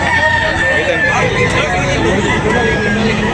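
Roosters crow at a chicken market amid busy crowd chatter, crowing calls rising over loud babble of talking voices close by.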